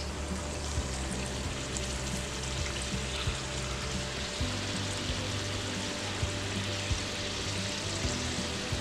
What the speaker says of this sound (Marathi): मंदाचेवरतीच आपण तळून घेणार आहोत।